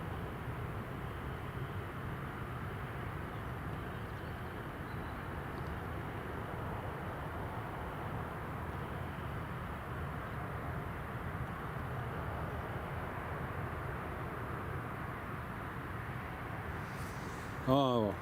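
Full-power airliner takeoff at Newcastle Airport heard from a distance, a steady broad engine roar that holds evenly throughout, with a brief voice and handling noise at the very end.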